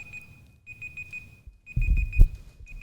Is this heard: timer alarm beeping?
yes